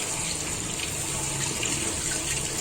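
Water runs steadily from a tap while a brine shrimp filter is rinsed to wash out salt, giving a constant close gushing hiss with no pauses.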